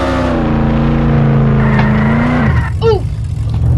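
In the Roblox game Jailbreak, a car engine revs with a rising, sustained whine that cuts off suddenly, then gives way to a brief chirp and low rumble.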